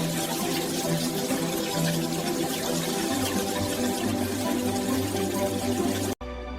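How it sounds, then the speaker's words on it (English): Cooked spaghetti is drained of its cooking water in a pasta factory. Steady, loud rushing water runs continuously for about six seconds, then cuts off abruptly. "the perfectly cooked pasta is separated from its cooking liquid"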